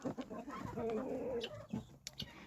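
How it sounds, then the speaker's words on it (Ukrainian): A hen clucking close by in a farmyard, giving a few short throaty calls and a drawn-out cluck with some scuffling around it, no one talking. "курочка прийшла кашку під'їдати"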